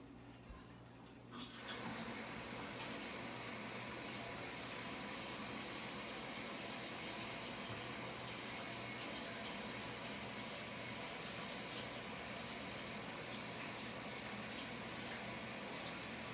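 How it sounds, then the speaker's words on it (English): Steady broadband rush of tap water running while hands are washed, starting after a short quiet moment and continuing evenly and fairly close throughout, with no talking. "Now let me wash my hands real quick"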